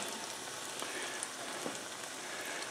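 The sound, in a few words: chicken pieces frying in oil on the stove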